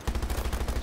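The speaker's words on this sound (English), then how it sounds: "I'm shooting it." Rapid video game gunfire, a burst of about a dozen quick, evenly spaced shots in under a second, heard close and fairly loud.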